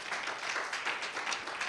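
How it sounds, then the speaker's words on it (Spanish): Worshippers in a church break into brief, steady applause during a Spanish-language sermon, a thick wash of many hands clapping at moderate volume with no voices standing out. "Dale un aplauso al Señor."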